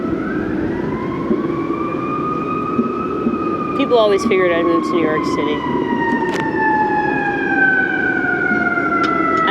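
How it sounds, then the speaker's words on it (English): Emergency vehicle sirens wail in New York City, a steady rising and falling tone that carries through the whole stretch with a brief burst of yelping in the middle, while a person speaks over them. "I love the sound of the sirens too."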